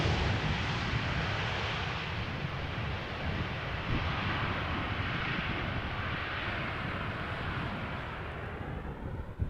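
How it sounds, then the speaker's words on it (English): An Embraer 175 airliner arriving at Amsterdam Schiphol in gusty crosswinds passes with a broad, loud roaring jet rush that holds steady and then slowly fades, heard from outdoors with no talk. "Looks like an Embraer 175 arriving from Frankfurt"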